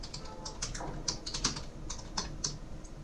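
Light clicking of keys on a computer keyboard, quick irregular keystrokes typed close by in a quiet room, with no voices.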